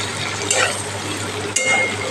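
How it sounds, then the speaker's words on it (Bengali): Boiled Bombay duck (lote fish) fries in a pan with a steady, even sizzle, broken by a couple of brief clinks, with no talking. "এটা প্রায় ভাজা ভাজা হয়ে এসছে"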